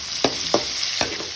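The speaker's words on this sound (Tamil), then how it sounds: "ஒரு பொன்னிறமாக வரைக்கும் நல்லா வறுக்கலாம்." Crushed shallots sizzle in a pan with garlic, a steady frying hiss broken by three distinct scraping stir strokes, close and alone with no voices.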